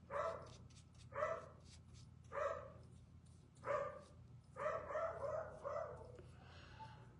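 A neighbor's dog barks outside a house in a series of sharp, moderately distant barks, five or six bursts spaced about a second apart with a short run of quicker yips near the end.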